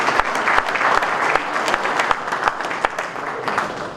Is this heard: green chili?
no